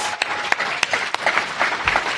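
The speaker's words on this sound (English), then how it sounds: "Give him a round of applause." Live audience at a DragonCon podcast recording breaks into a round of applause, dense crowd clapping with a few sharp individual claps standing out, fairly loud and continuous with no talk.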